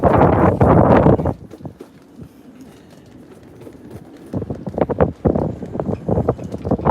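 Heavy wind buffeting a nearby microphone on a drifting boat in the Atlantic Ocean, roaring in loud gusts at the start and end with a quieter stretch in between.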